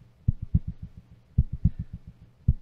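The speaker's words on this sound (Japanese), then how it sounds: "でも心臓の音が鳴っててよかった。" A heartbeat from the occult adventure video game Zelle thumps in low, muffled double beats, repeating in steady clusters at close range with nothing else over it.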